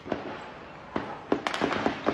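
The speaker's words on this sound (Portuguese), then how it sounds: "Ao som de tiros, foi assim que os moradores da Rocinha acordaram mais um dia." Gunshots ring out in a favela in Rocinha, sharp isolated cracks at first, then a quicker irregular burst of several shots, fairly close and clear with no voices.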